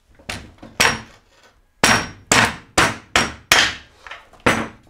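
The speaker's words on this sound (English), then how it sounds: "you can use an extension like this and give it some good taps with the mallet." Mallet blows strike an extension to drive off the left arm of a Rotor bicycle crank, about nine sharp metallic whacks in an uneven rhythm, loud and close, with no talking.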